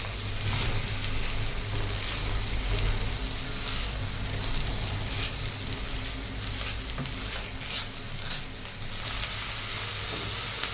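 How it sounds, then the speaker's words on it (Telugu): Cabbage and spring onions fry in a pan for a ragi vegetable soup, giving a dense, continuous close-up sizzle with light stirring and no talk. "క్యాబేజ్, స్ప్రింగ్ ఆనియన్స్ ఇవన్నీ వేసి బాగా ఫ్రై చేయాలి."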